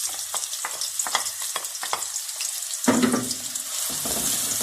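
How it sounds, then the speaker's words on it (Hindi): Finely chopped onion drops into hot ghee in a kadai and bursts into a loud, steady sizzle after a few scattered clinks, then keeps frying close and strong to the end. "अब मैं प्याज डालने लगी हूँ"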